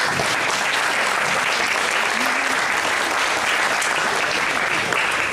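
Dense, continuous applause from an audience honoring students at a school drama performance, steady and loud for the whole stretch with no pauses.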